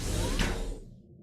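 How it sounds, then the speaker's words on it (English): Doors slide open in a horror video game with a loud, heavy whoosh that swells to a sharp peak and then trails off into a fading rumble, close and alone. "Those doors are loud."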